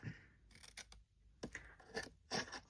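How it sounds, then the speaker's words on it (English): Scissors snip patterned designer paper while making a hinged-lid chocolate bar box, a few short close crisp cuts in quick clusters separated by brief quiet gaps. "So just a little snippety snip either side of that."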